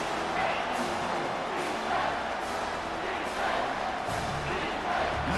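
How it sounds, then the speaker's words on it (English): Stadium crowd noise from EA Sports College Football 25 swells as fans roar to back the defense near the goal line, a steady dense wash of cheering with talk over it. "the crowd really making some noise now, trying to help out this defense to get this stop near the goal line"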